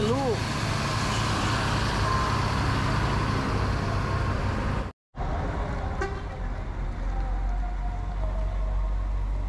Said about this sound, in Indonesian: Wih, keren ini bus tadi.